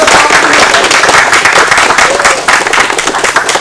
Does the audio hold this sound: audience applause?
yes